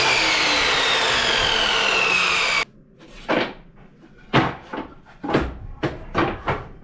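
A wooden board, finished on one side 1x material, is cut to size for a computer table top: a loud continuous saw whine ends abruptly, followed by several knocks and scrapes of the wood being handled.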